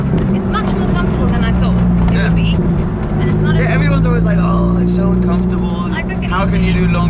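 Loud steady engine drone and road roar fill the cabin of a small sports car on the move, with a constant low hum throughout and people talking over it.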